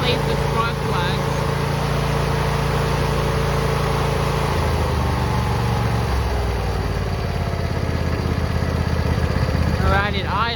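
A John Deere lawn tractor engine runs steadily up close, its chugging drone shifting into a lower, rhythmic idle midway, with brief voices at the start and end.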